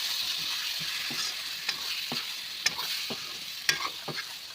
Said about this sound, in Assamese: ভাজি ল'ম ভালদৰে ভাজা হৈ গৈছে